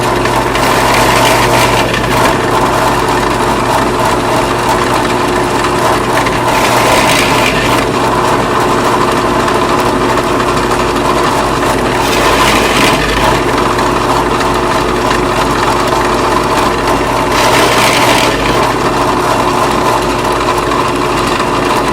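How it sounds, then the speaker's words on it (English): An inexpensive drill press bores holes through a wooden cabinet board set in a jig, a steady loud motor whine with three bursts of brighter cutting noise spaced several seconds apart. "Let's drill a few holes here and demonstrate."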